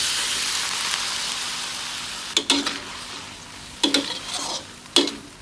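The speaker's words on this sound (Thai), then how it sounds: "พริกหอมได้ที่เราก็จะใส่ปลากระพงลงไป ผัดคลุกเคล้าให้เข้ากัน" Sea bass stir-fried with chili paste in a wok hisses with a loud, bright sizzle that fades slightly, then three sharp bursts of spatula tossing near the end, with no speech.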